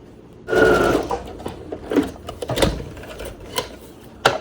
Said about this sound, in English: Now I'm gonna sew this together.